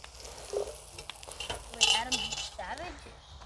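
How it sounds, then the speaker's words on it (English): Asparagus sautéing in a cast iron Dutch oven over a campfire, with a steady close sizzle and frying crackle, a utensil stirring and clinking against the pot, and a voice speaking briefly over it. "the asparagus has been sauteing, and we're getting some nice color on it"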